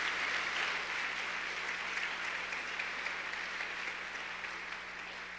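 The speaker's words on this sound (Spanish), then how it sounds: "Dele un aplauso a Dios" A church congregation breaking into sustained applause, a thick wash of many hands clapping at once, loud and even before slowly tapering.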